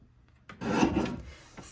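A single short swipe of a paper trimmer blade slicing a strip of scrapbook paper, a crisp close rasp lasting well under a second amid quiet.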